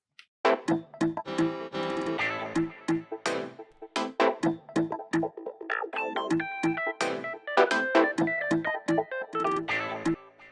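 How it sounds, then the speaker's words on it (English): Deep tech house synth arrangement built in Ableton, an electric piano loop trading phrases with bright piano one-shots in call and response, steady and loud with short punchy stabs throughout and no voice. "So altogether, the synths sound like this."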